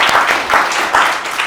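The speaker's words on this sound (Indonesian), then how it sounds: "Ya boleh tepuk tangan dulu untuk Pak Dharma." A room of listeners at a student dialogue event claps for Pak Dharma, giving dense, steady applause that fills the short moment.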